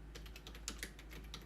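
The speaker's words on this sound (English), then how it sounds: "I'm going to type out" Rapid, quiet clicking of keys on a computer keyboard as a name is typed, an even run of soft close taps with no voices.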